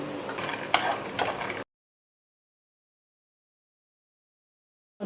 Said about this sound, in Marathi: परत डाळ्या भाजून घेऊ।